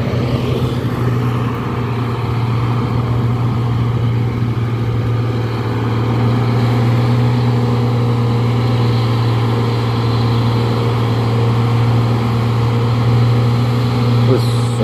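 An overloaded brown truck runs along the road with a steady, loud, low engine drone and constant hum throughout, heard close from nearby traffic, with voices now and then over it.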